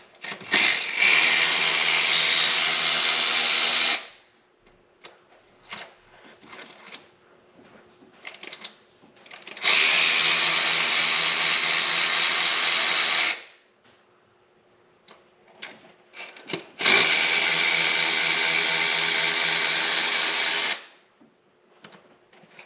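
An electric ratchet or power tool with an E8 socket runs in three steady bursts of about four seconds each while removing oil filter housing bolts on a Pentastar Dodge Grand Caravan, with quiet handling clatter in the gaps.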